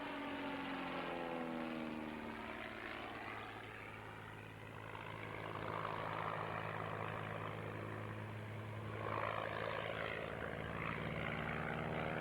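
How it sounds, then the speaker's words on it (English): A propeller aircraft runs at a 1999 agricultural air display, giving a steady, droning engine hum with a slowly wavering pitch. The sound is moderately distant and fairly faint. "Very sturdy aircraft, very strongly built"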